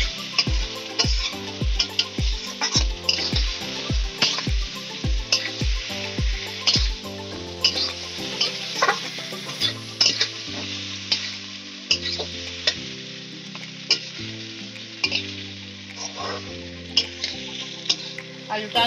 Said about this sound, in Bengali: মাংসটা আমি কষে নিচ্ছি বন্ধুরা